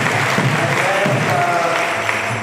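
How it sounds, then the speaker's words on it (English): A temple audience at a Sunday program claps in a steady round of applause, moderately loud and continuous, with low murmuring voices beneath. "So please give him a round of applause"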